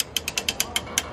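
A trailer winch ratchets as it draws a personal watercraft such as a Sea-Doo or WaveRunner forward on its trailer, with about nine crisp metallic clicks at a steady, slightly uneven pace, close and clear with no talking.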